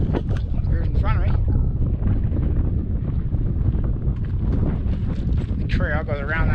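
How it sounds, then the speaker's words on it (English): Strong wind buffets the microphone steadily at Fancy Pass, about 12,600 feet up in the mountains, a loud constant roar with a person talking over it. "pretty windy up here"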